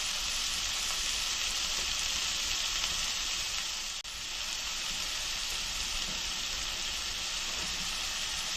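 Steak burgers cooking in a cast iron skillet, a loud, steady, close hiss of frying that runs unbroken, with one brief dip midway.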